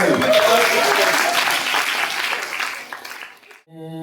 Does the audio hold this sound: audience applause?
yes